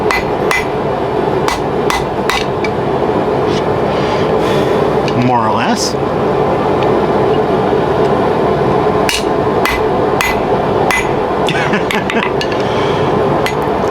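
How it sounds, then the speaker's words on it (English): Metal is hammered into cylinders at a forge while a spatula is being made, and repeated sharp hammer blows ring out against steady background noise. Someone talks briefly at one point. "I'm also taking these and trying to waste my time hammering them down into cylinders."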